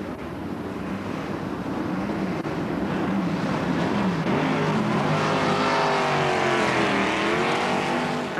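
Formula 5000 race cars from 1975 at Oulton Park pulling away from the start, a dense roar of engines that builds and rises steadily with wind noise throughout and no talk.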